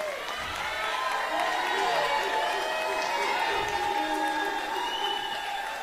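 A crowd at a congressional election victory rally cheers and applauds loudly and continuously, voices shouting over a broad roar of clapping that stays strong throughout.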